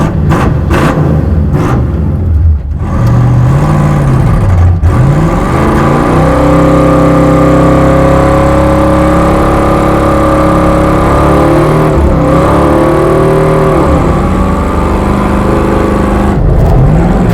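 A Cadillac V8 on slick tires revs hard and drives off, loud and close, with sustained throaty engine roar rising and falling through gear changes and no talking.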